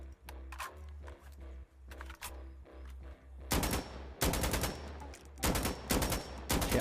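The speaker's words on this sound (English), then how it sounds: "That sounds exactly like an AKM." AKM rifle gunfire in the shooter game Insurgency: Sandstorm, first as a rapid string of single shots and then as loud sustained automatic bursts separated by short pauses, heard alone with no talking.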